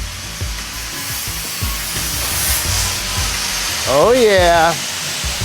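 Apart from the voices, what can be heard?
welding scrap metal for art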